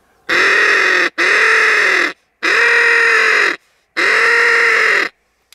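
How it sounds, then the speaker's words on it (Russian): Four loud, drawn-out nasal caws blown one after another on a wind-blown duck call used to lure crows, each about a second long with short gaps, close and harsh. "Я пользуюсь для призыва вороны самым обыкновенным духовым манком на утку."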